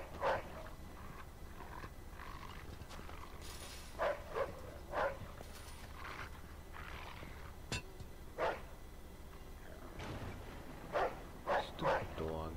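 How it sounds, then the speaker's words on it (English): A dog barks repeatedly in a Mafia 2 video game slaughterhouse scene, sharp bursts coming in irregular clusters, some doubled, over a steady low background hum. "Stupid dog."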